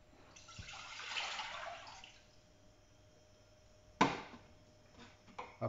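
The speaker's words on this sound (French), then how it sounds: "Ajoutons l'eau." Water poured into a pot on a heating cooktop, a steady gushing pour for about two seconds followed by quiet, then a sharp knock and a few small clatters.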